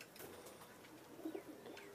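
Pigeons perched together coo softly in short, low murmuring phrases, faint and fairly distant over a steady background hiss.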